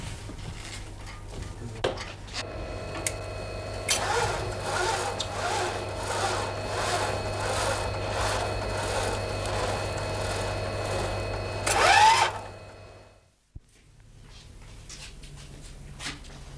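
A 1963 German DERA mainframe's punched-card-driven curve plotter starts up with a steady mechanical whir, a rhythmic rasping clatter and a low electrical hum, running for several seconds before cutting off abruptly into near silence.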